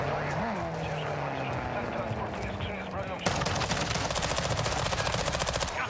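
Rapid automatic gunfire from a volley in Call of Duty Modern Warfare II DMZ, loud and continuous, with a denser burst of fast shots in the second half and a player's voice talking over it.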